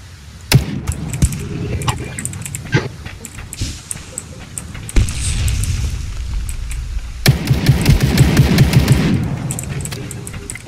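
Gunfire in the battle-royale game Ring of Elysium, with repeated sharp shots and bursts, a dense rapid volley near the end, heard alone in the game mix.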